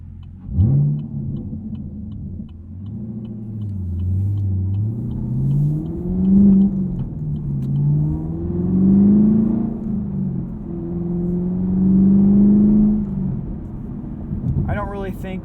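A Chevrolet Camaro engine revs in rising and falling swells, the exhaust note sweeping up and down under steady, close talk throughout.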